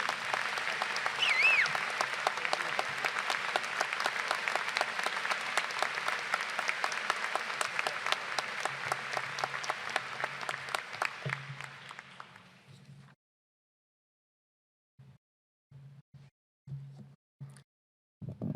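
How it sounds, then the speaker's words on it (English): Audience applause at a law school commencement ceremony, a sustained dense wash of many hands clapping that fades out near the end, followed by short bursts of low murmuring or movement. "Can we have another round of applause for Governor Ridge?"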